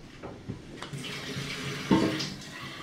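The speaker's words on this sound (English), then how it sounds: "So, fill it with water, water's in there." Water running from a tap into a Polar Gear water bottle, a steady close splashing rush that rises in pitch and swells louder as the bottle fills, with no talking.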